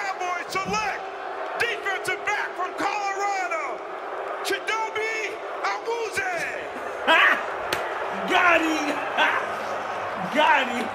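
A large crowd at the NFL Draft in Philadelphia boos and jeers a speaker, a loud roar of hostile voices with whoops and shouts. An amplified voice speaks over the noise.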